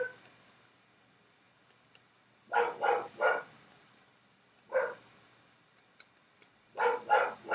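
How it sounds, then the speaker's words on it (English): A dog barking in the background indoors, three bursts of two or three quick barks separated by quiet pauses, moderately loud and alone. "my dog barking in the background"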